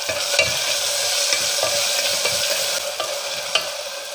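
Crushed garlic, ginger and green chilli sauté in a hot pan with a loud, continuous close sizzle, punctuated by several sharp scrapes and taps of a spoon stirring.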